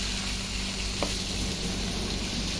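Marinated chicken fries in a pan for a creamy chicken dish, a loud steady sizzle with a single stirring scrape partway through, no voices.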